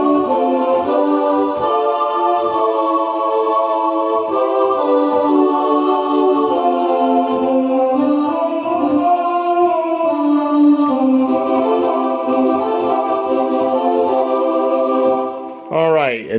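A synthesized choir pad sustains layered vowel-like chords, shifting slowly between harmonies, loud and steady, ending with a brief bend.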